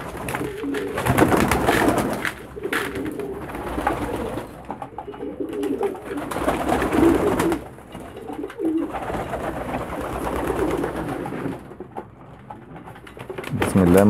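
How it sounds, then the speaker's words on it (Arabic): Pigeons coo continuously and close by while being fed grain, soft rolling calls layered over rustling and movement in a loft, with someone speaking intermittently. "تعالوا نقدمها للحمام ونشوف الحمام هيعمل ايه معانا"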